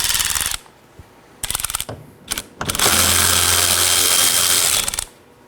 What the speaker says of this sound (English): I'll be removing the 10mm bolt first.